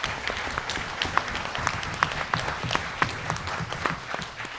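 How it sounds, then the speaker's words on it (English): An audience at a mental health panel event applauds, a steady patter of many hands with a few sharper claps standing out, fairly faint and distant throughout. "Can we please give a huge round of applause for"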